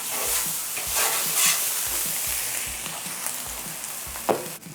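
Bread toasting in hot sizzling garlic butter in a pan for chicken parmesan sandwiches, a steady close fry hiss with soft rhythmic low thumps and one sharper clatter near the end.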